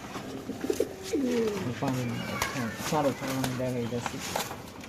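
Kaldam pigeons coo in repeated soft, rolling calls, close by, while someone talks over them at a pigeon sale in Bangladesh.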